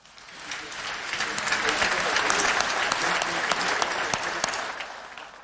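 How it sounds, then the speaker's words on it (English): A conference audience at the African Development Bank annual meetings breaks into applause, a dense wash of clapping that swells quickly, holds strong for several seconds and then begins to ease, with some voices in the crowd. "I think they deserve a better round of applause"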